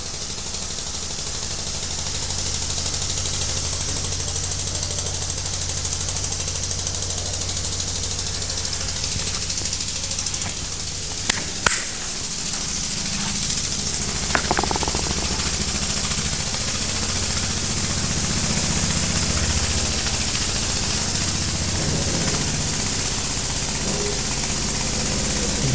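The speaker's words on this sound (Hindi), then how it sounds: "बेहतरीन इंजन है यार ये, बेहतरीन।" A homemade small engine built from cheap parts runs steadily for the whole stretch, a constant buzzing drone with broadband hiss, broken by a few sharp clicks or knocks around the middle; no talking.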